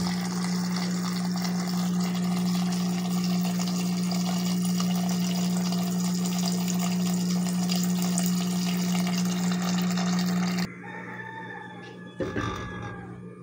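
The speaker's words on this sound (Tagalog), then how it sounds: "lagyan na natin ng tubig para maisalang na" Water runs steadily and loudly into a pot of cleaned chicken feet for chicken feet adobo, a constant rushing pour that stops near the end, followed by a few clanks.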